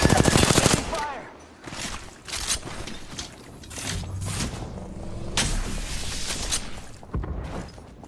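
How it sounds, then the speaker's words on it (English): Incoming gunfire in Apex Legends, a loud rattle of automatic shots at the start followed by scattered impacts and bursts through the rest, with some faint talk underneath. "Taking fire"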